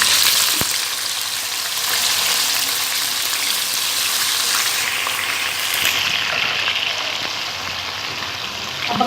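Chicken drumsticks fry in hot oil, filling the space with a loud, steady, close hiss and crackle that carries on unbroken throughout.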